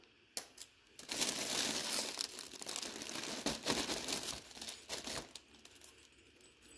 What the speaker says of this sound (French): il me reste pas beaucoup de film transparent, sinon je l'aurais fait beaucoup plus haut déjà